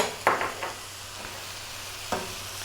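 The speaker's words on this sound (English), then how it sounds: "we're going to take that big piece of butter, drop that in" Butter dropped into a hot pan of stir-fried shell-on prawns with spicy garlic hisses and sizzles, with a few close scraping stirs and clinks over a steady frying crackle.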